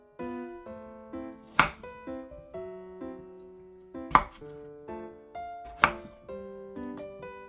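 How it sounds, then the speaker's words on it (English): A knife chops through potatoes on a cutting board, making three sharp, close thuds spaced a couple of seconds apart, with musical tones playing throughout and no talking. "I'm going to cut the potatoes in half and then in quarters"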